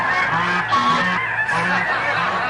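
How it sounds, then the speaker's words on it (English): A flock of geese honks loudly and continuously at close range, overlapping calls repeating in rough bursts, set off by a passing ambulance siren. "The siren scares a flock of geese"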